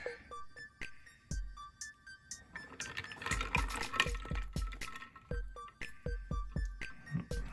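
A resin or plastic miniature piece from a Reaper Bones add-on set is dipped into ice water, giving watery splashes and sloshing among sharp clinks and taps, close and moderately loud, with no talking.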